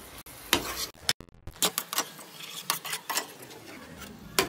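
Spoon knocking and scraping against a pan as cooked rice is stirred into melted liquid jaggery, irregular clinks and taps close by with no voice.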